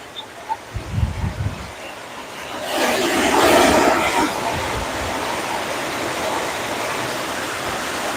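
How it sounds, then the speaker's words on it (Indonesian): Rain falls outside, a steady broadband hiss that swells after a few seconds and then holds at a moderate level, with a few low thumps and faint voice-like sounds near the start. "Baru mulai lagi hujannya bun."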